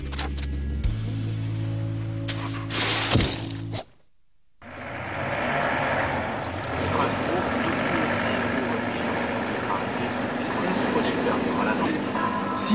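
A helicopter flies from the Chamonix drop zone up to the Col du Géant; its engine and rotor make a steady, loud drone throughout, broken by one brief dropout.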